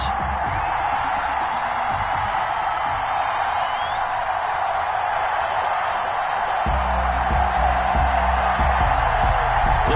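A stadium crowd's steady roar and cheering in an EA Sports football video game, Tampa Bay Buccaneers against Atlanta Falcons, a constant wash of noise under a game commentator's voice.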